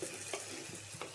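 Beef roast being stirred in a pan while it cooks down, a steady sizzle with a few scraping spoon strokes against the pan, close and fairly quiet, no talk.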